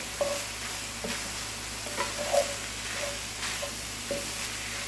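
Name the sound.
onions frying and stirred with drained ground meat in skillet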